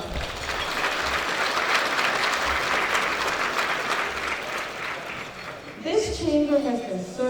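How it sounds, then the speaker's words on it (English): An audience at an awards ceremony claps loudly and steadily for about six seconds, a dense wash of applause that then gives way to someone speaking. "Can we give them a round of applause?"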